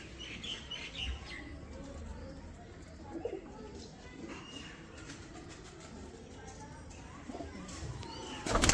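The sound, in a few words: pigeons (Kalsari breed) cooing and flapping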